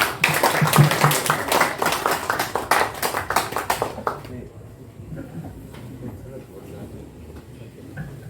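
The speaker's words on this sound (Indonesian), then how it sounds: "Tepuk tangan." A gathered congregation at a church service celebration claps in loud bursts for the first half, then the applause fades, leaving a quieter room with faint scattered taps and low background murmur.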